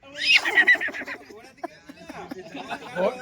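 A person gives a loud, wavering imitation of a horse's neigh, followed by a few softer vocal sounds.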